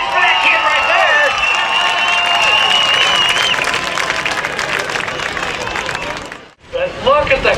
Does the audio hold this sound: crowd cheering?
yes